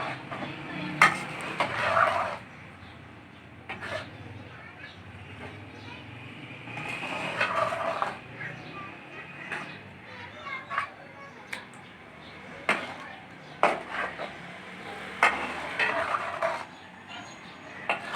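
A spoon stirs bread halwa in a pan, giving repeated scraping strokes in irregular bursts over a soft sizzle, fairly close and moderately loud.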